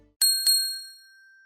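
Two clear bright strikes of a small bell in a quiet room, the second following closely after the first, leaving a long pure ringing tone that slowly fades out.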